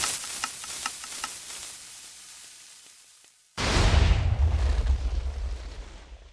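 A TNT cannon in Minecraft firing, first a string of rapid ticking and clicking that fades, then one sudden loud explosion that leaves a long roaring, crackling rumble.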